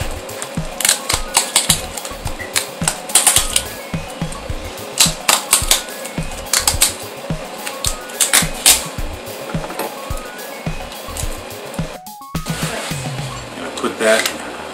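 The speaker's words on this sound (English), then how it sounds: "I will, however, start the tape right there" Tape pulled and wrapped around an Amtgard flail end cap, giving a run of sharp, rapid crackling rips and clicks up close, loud and irregular, with a brief pause near the end and a voice speaking.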